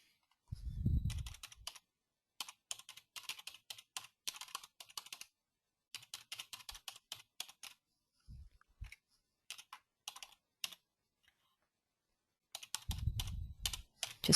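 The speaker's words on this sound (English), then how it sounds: "And I'll just type that in." Typing on a computer keyboard arrives in several bursts of quick, close key clicks separated by short pauses, with a few low thumps at the start and end.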